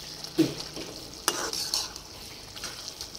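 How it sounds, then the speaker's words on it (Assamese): Mustard greens and potatoes fry in a pan with a soft, continuous sizzle. A spatula stirs and scrapes in a few sharp, close knocks and clinks against the metal. "এইফালে এতিয়া বনাই আছোঁ লাই শাক আলু ভাজি"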